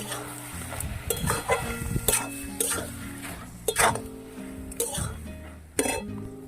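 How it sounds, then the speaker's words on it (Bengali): Spinach and vegetable curry in a covered pot has its lid lifted and is stirred, giving clinks of metal against the pot and scraping spoon strokes in an irregular rhythm, close and moderately loud, with some speech-like sound in places. "দু মিনিট পর একবার চাপা খুলে আমি একটু নেড়ে নিচ্ছি"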